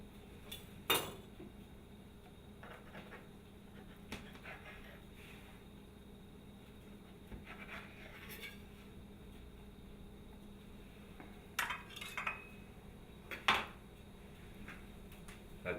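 A knife clinks and scrapes through a potato-topped Latin spiced cheesy frittata on a plate or pan, with a few sharp metallic taps scattered over a quiet background and no talking.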